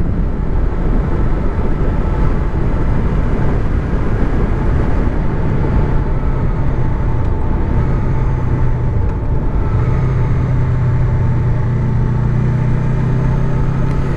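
A Honda VFR 800 motorcycle engine running steadily at 4500 rpm while riding, a loud continuous smooth drone with some wind noise.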